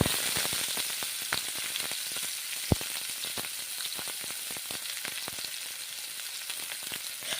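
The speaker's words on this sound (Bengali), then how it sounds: "পেঁয়াজগুলো ভেজে নিচ্ছি।" Onions frying in a pan give a close, steady crackling sizzle with scattered pops and one sharper tick, running without pause and with no talking.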